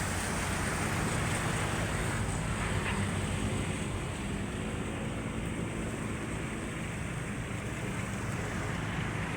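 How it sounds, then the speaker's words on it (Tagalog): Seaside beach ambience on a morning walk along the shore, with a steady, loud roar of wind and surf running continuously and no talking. "Dito kami sa tabing dagat."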